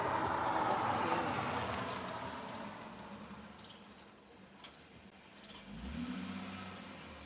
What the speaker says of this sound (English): I don't know what this car is doing.